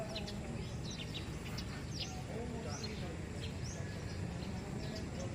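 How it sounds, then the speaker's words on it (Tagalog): Birds chirp and tweet outdoors among big trees near a lake in Rizal, scattered short calls repeating over a steady bed of outdoor noise and low background murmur. "pakinggan tunog ng mga ibon"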